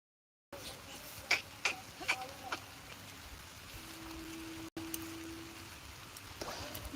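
Heavy rain falls over a farm, a faint steady hiss with a few sharp drip clicks early on and a brief low hum partway through.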